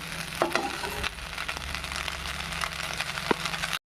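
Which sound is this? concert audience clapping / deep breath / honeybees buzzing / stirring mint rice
stirring mint rice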